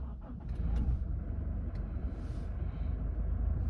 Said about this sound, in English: let me start the car first for you guys